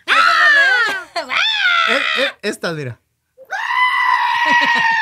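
A voice imitates the screaming, bleating goats from the Thor movie in long, loud, wavering cries, broken by short pauses and a few spoken words.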